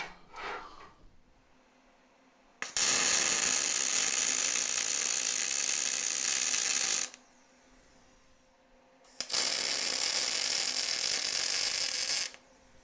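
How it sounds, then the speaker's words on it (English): A Vulcan MIG Max welder lays runs on scrap steel with C25 shielding gas, making two close, loud, sustained crackling hisses of about four and three seconds with quiet gaps between them and no talking. "I'll just lay a couple of runs down on some scrap steel"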